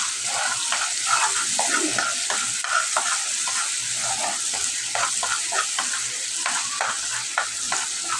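A fish, potato and spiny gourd curry is stir-fried in a pan after a splash of water, giving a steady close sizzle broken by frequent scraping stirs, with no voices.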